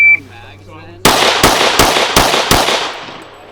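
Five sharp gunshots from a deputy's firearm at a sheriff's office shooting qualification range, fired in an evenly spaced string after a brief quiet lead-in with a faint tone, each crack loud and close with a short decaying tail.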